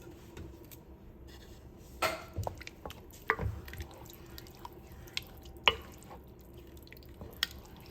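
A spoon stirs diced tomatoes into browned beef and Italian sausage in a pot. Wet squelches and scattered metallic taps sound close against a quiet background.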